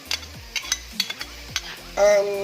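Garlic going into a pan of sautéed onion, with a series of short stirring scrapes and clinks over a steady sizzle that swells loud near the end as the garlic hits the hot oil.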